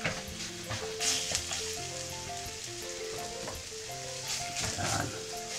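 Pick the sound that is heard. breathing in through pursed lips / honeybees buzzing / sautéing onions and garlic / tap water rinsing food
sautéing onions and garlic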